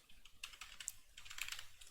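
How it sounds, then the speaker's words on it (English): Quiet, quick keystrokes on a mechanical keyboard clatter in short bursts, with a brief gap in the middle and no talking. "God, I hate mechanical keyboards."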